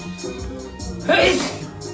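A single sharp sneeze bursts out in the middle of the clip over a quiet musical backing, while people talk softly around it.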